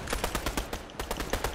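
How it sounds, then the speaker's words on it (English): Rapid automatic gunfire in the Fortnite video game, a fast, even burst of about a dozen sharp shots, loud and close, with no talking over it. "Oh, they're shooting at me."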